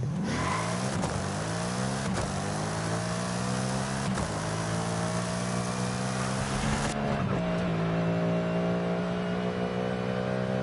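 A car engine in Forza Horizon drones and revs steadily, its pitch climbing then dropping at a gear change before settling into a lower, smoother hum, loud and continuous.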